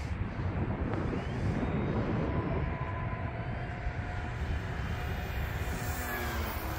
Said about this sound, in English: This airplane flying on 4S doesn't have to go super high speed on the throttle.